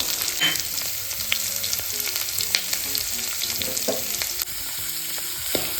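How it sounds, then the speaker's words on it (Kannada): Onions frying in a pan with curry leaves and green chillies, a continuous close sizzle with spatula scrapes throughout, no talking. "ನೆಕ್ಸ್ಟ್ ಈರುಳ್ಳಿ ನಾನು ನೀಟಾಗಿ ಫ್ರೈ ಮಾಡ್ಕೋಬೇಕು"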